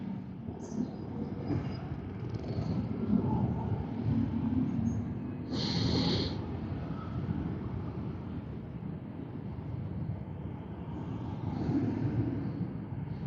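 A steady low rumble of a passing light rail train fills the clip, with a brief high screech near the middle; no talking.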